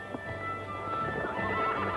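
Uneasy horses on a forest expedition give a short whinny against a soft background, with faint hoof clops and stirring close by.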